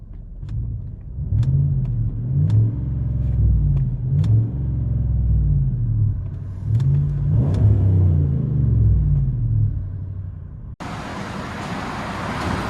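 Deep V8 exhaust rumble from a 2014 GMC Sierra 5.3L V8 with Flowmaster 40 Series dual exhaust, heard from inside the cab, rising and falling with revving, steady and low, ending in a burst of road noise.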